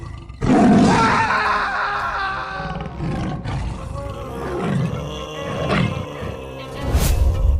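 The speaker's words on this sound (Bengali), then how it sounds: "বরেন্দা পালাও, এটা কোনো গরু নয়, এটা সাদা বাঘ" A white tiger lets out loud, deep roars and growling groans, starting abruptly and rolling on in several heavy bursts, close and dominant throughout.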